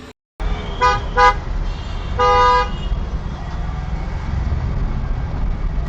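Car horns honking in stopped traffic on an Indian road, a few short toots followed by a longer blast over a constant engine and road rumble, fairly close.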